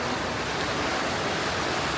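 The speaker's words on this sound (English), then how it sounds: "It's like went from creek to river" A rushing river swollen from a creek by heavy water, close and loud, a steady broadband roar of churning current with no voices.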